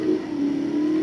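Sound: Jaguar XKR engine in video game Need for Speed Most Wanted

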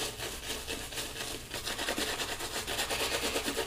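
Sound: brush building lather from Mydlanachata Bergamota shave soap

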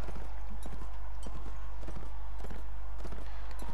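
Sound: horse galloping, from the video game Mount and Blade Warband

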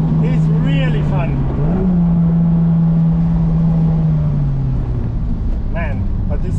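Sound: Mazda Miata MX-5 driving on a forest road

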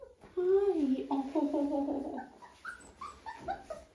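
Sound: puppies whimpering

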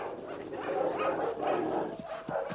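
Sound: dogs barking and whimpering

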